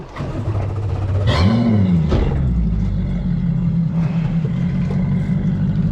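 An offshore fishing boat's engine rumbles loud and close, revving with a rising-then-falling whine as it is put in gear, then settling into a steady low drone.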